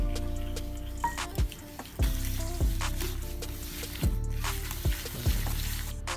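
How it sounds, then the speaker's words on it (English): Cookie batter with caster sugar is whisked in a bowl, giving a series of light, regular taps and soft wet squishes at a steady pace, fairly quiet and close, with no voices. "all you have to do is keep whisking it for a little while"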